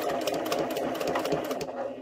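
Sewing machine basting fabric for a tuffet, a close, rapid, steady rattling stitch rhythm that runs continuously for two seconds at moderate volume.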